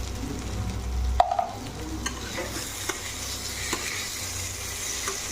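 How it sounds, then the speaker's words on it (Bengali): A spoon stirs masala into pointed gourd and potato in a pan over a soft sizzle, with scattered clicks and scrapes against the pan, one sharper knock early on, and close and moderately quiet. "পটলের সঙ্গে ভালো করে মশলাটা মিক্স করে নিতে হবে।"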